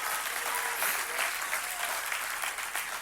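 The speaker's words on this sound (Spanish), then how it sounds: "Denle un aplauso a Dios si lo recibe." A church congregation claps together in sustained, dense applause that stays loud and steady throughout, with a few voices mixed faintly into the crowd.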